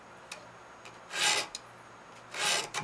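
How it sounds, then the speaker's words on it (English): A knife file rasps across the teeth of a pole saw blade in two slow, distinct sharpening strokes, close and crisp, with light ticks of the tool in between. "So by using a knife file, we're actually deepening the tooth as we're sharpening"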